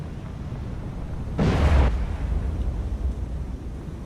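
A torpedo strike explodes in the submarine game Cold Waters: one broad, rumbling blast lasting about half a second, followed by a low lingering boom over faint background noise.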